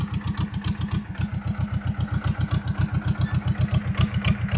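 A Powertrac 425 tractor engine runs steadily in a mango orchard, its rapid, even diesel chugging loud and close, with a regular pulsing beat throughout and no talk.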